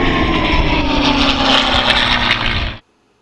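An air compressor runs loudly and close by with a steady roaring drone, then cuts off abruptly into silence.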